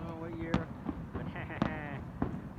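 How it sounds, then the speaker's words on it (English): New Year's fireworks for 2024 burst in several sharp booming cracks spaced about a second apart, moderately near, over crowd chatter and voices talking. "fireworks, fireworks."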